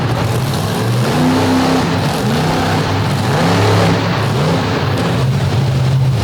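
The Redneck Rampage monster truck's engine roars loud and close at a Midwest monster truck show, holding a steady, rumbling drone with rising and falling revs throughout.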